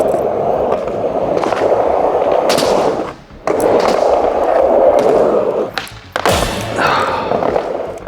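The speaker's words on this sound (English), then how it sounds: "the final trick, number 34, backside flip on the hip" A skateboard rolls loudly on concrete with steady wheel roar, broken by sharp board snaps and a hard landing slap as a rider does a backside flip on a hip at a skatepark, then rolls away.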